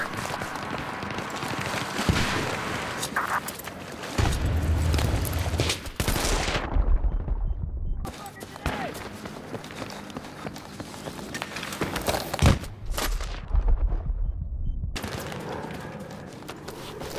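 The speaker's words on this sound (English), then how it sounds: "I've spotted an enemy machine gunner in the area." Automatic machine gun fire and fusillades in Battlefield 3 on the Operation Metro map, dense rattling bursts with heavy low booms, brief gaps, then renewed volleys throughout.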